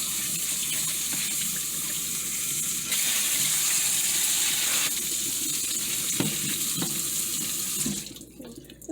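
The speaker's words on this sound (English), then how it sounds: "About 3 cups. And I'm going to rinse them out." Tap water runs steadily over dry pinto beans in a kitchen sink, a loud continuous rushing hiss that cuts off near the end.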